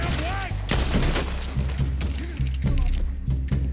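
Rapid gunfire in the video game Red Dead Redemption 2, sharp overlapping shots in quick bursts with mechanical clicks between them, loud and close over a low droning background hum.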